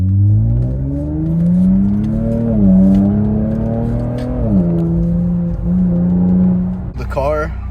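An Infiniti Q60 fitted with an Ark exhaust and downpipes accelerates through the gears, a loud, close engine note climbing in pitch, dropping at each shift and rising again, ending with a sharp burble.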